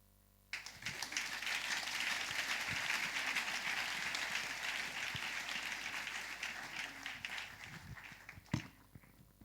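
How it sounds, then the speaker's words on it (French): A church congregation bursts into loud, sustained applause and cheering after a prayer, the dense clapping starting abruptly and holding steady for several seconds before thinning out, with a few sharper claps near the end. "Est-ce qu'on peut encore acclamer plus que ça?"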